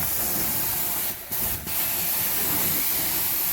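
A carpet cleaning machine's wand rinses carpet with TRU-rinse solution, producing a loud, steady, close spraying hiss with two brief dips where the spray pauses before resuming.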